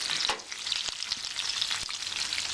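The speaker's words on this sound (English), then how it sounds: "Add the burger in the bacon fat." A beef burger sizzles and spatters loudly in hot bacon fat in a cast iron pan, a continuous close crackle with scattered sharper pops and no talking.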